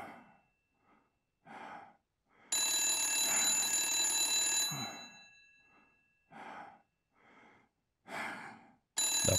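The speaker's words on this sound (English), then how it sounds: "That phone ain't gonna answer itself, Blacksad." A phone in the Blacksad: Under the Skin video game rings with a loud, shrill electronic tone for about two seconds. Before and after it come breathy sighs and gasps.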